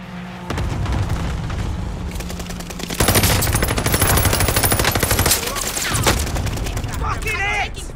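Loud, sustained automatic gunfire rattles through a Call of Duty: Modern Warfare firefight, with booming explosions mixed in and shouted voices breaking through near the end.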